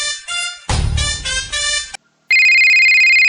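A mobile phone rings while calling a boyfriend: a bright, melodic ringtone with a noisy burst in the middle, a brief silence, then a loud, steady ringing tone to the end.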